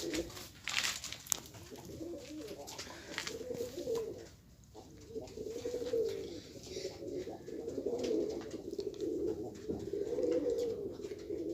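Several pigeons coo softly and continuously nearby, their low, throaty warbling rising and falling in overlapping waves.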